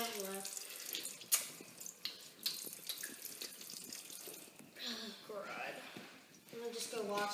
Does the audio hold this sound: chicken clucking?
no